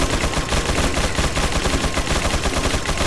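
Rapid, continuous gunfire in Resident Evil 4 fills the whole stretch, dense repeated blasts at steady loudness with no pauses, close and loud.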